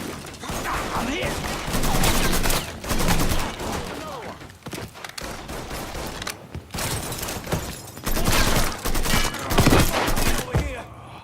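Gunfire in the open-world crime game Mafia 3: repeated bursts of rapid shots and heavy volleys come in waves, with short pauses between them and shouting voices mixed in.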